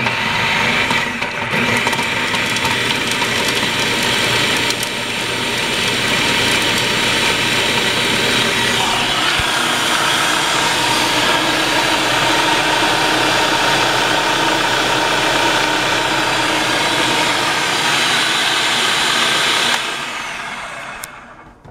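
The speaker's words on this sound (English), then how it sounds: "we're going to process in the food processor" A food processor whirs loudly and steadily for about twenty seconds while chopping garlic for an edamame snap pea salad, a continuous motor roar that stops abruptly at the end.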